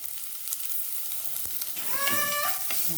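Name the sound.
garlic, ginger and mango being stir-fried for fish curry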